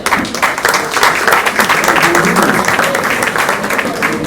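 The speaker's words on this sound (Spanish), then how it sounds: "vamos a darles un cariñoso aplauso" A large audience at a conference in Lima claps in sustained, dense applause that stays loud and steady throughout, close and full with no voices standing out.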